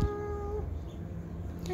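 A female cat meows clearly at close range, a single drawn-out call with a rising and falling tone, followed by quieter background noise.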